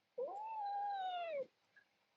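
A single drawn-out meow from a seal point Himalayan cat, clear and close, lasting over a second in a quiet room, followed by a faint short chirp.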